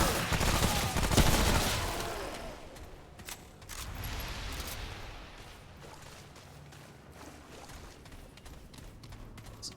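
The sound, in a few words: gunfire from a weapon in the video game Remnant: From the Ashes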